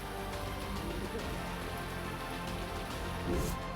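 Heavy monsoon rain pours down in Rajasthan during a record downpour, a dense, steady broadband hiss with no clear breaks, loud throughout, while a faint voice may sit under the wash.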